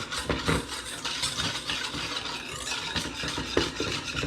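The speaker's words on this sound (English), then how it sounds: "I'm going to whisk this in to make a kind of paste" Liquid is whisked into flour to form a paste for pastry cream, giving a steady, close scraping and swishing of the whisk against the bowl with no talk.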